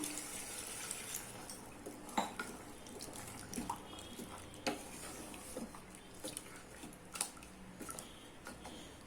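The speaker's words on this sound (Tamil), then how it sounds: "இப்போ தேவையான அளவுக்கு தண்ணி ஊற்றிக்கலாம்." Water splashes and trickles into a pressure cooker for mutton gravy in faint, uneven gushes with small clinks, quiet and close, without talking.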